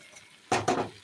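A pan of mixed vegetables for a Bengali chorchori is stirred: after a quiet start, two quick close scraping clatters of a utensil against the pan over a faint sizzle.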